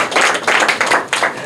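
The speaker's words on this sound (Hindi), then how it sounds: "जोरदार तालियां" Children at a private school in Bihar clap for a prize winner, several quick bursts of close, sharp handclaps in an uneven rhythm over about a second and a half, with no voices.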